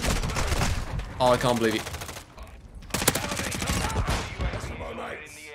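Pistol fire in Call of Duty Modern Warfare II, sharp gunshots cracking over busy game sounds while a player talks excitedly over them.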